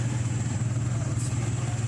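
A motorized tricycle engine runs steadily at a mid-pitched idle, close and loud, with a constant rumbling drone throughout.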